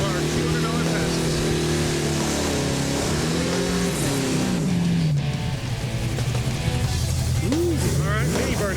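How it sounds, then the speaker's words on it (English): A drag race car does a mini burnout at a drag strip, its engine droning loud and steady with rising and falling revs, while voices talk over the noise. "All right, mini burnout."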